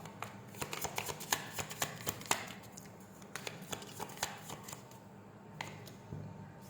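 Tarot cards being shuffled by hand during a reading, a run of rapid papery riffles and snaps with irregular louder peaks, close and moderately quiet, with no talking.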